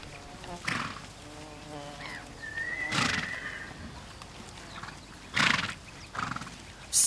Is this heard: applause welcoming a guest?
no